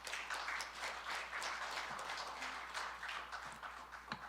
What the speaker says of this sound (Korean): 환영하는 의미에서 힘찬 박수 한번 부탁드립니다.